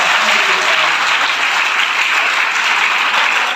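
A crowd at a large tree-planting campaign launch in Amethi district claps together, producing a loud, sustained wall of applause that holds evenly for several seconds.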